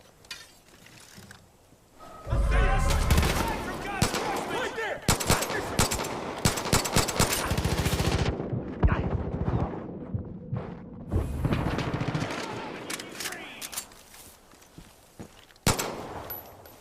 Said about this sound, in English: I cleared a smaller outpost where they spotted me and shootout began.